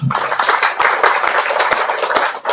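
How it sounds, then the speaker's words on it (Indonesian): Audience at an Indonesian press association gathering clapping together, a dense steady burst of many hands close by, lasting a couple of seconds. "Tepuk tangan dulu"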